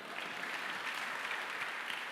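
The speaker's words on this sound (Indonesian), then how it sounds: "Pintar, tepuk tangan untuk diri saudara." A congregation at an Ascension Day church service gives a quick round of clapping, a soft, even, distant patter of many hands that sounds fairly faint.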